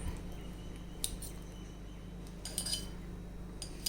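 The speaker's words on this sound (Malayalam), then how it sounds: "ഫോർക്ക് കൊണ്ട് ഇതുപോലെ നല്ലതുപോലെ ഉടച്ചെടുക്കാം." A fork mashing peeled banana in a bowl gives soft squishing presses and occasional light clinks of metal against the dish, close, quiet and irregular, with no talking.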